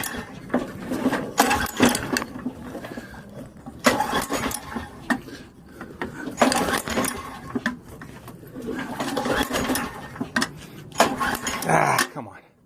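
An old lawn mower recovered from a roadside is being cranked to start, with repeated bursts of pull-start effort and sputtering engine noise; someone talks over it between attempts, close by.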